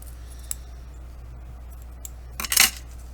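Scissors snip off the loose end of a knotted string on a small handmade paper folio, a brief crisp cut late in the moment after near silence.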